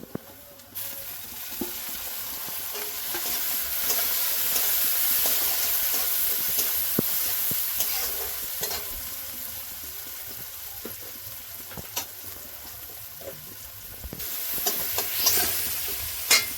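Onion, garlic and green chili frying in a pan with chopped tomato and ginger added for ghugni, a continuous hiss of sizzling with scraping stirs and occasional sharp clinks of a spoon against the pan.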